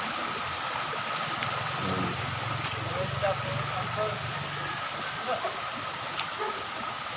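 Natural mountain stream water flowing steadily on a hillside, a constant broadband wash close by with faint scattered voices in the background.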